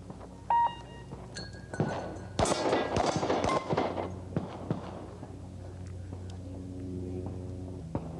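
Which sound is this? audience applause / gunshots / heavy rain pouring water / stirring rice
gunshots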